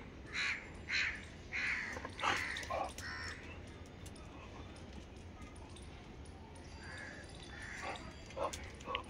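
A crow caws several times in short harsh bursts on a rooftop, with occasional dog barking and other background noise nearby.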